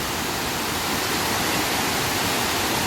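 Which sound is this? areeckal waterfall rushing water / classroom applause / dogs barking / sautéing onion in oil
areeckal waterfall rushing water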